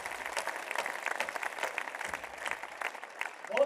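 Audience applause at a Jain festival gathering in Udaipur, with hands raised: a steady patter of many hands clapping, moderately loud, with a faint voice near the end.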